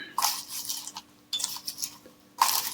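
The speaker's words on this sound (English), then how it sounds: "These little shavings in there." Colored pencil shavings rattle inside a container in three short bursts of light clinking and shaking, close and fairly loud, with quiet pauses between.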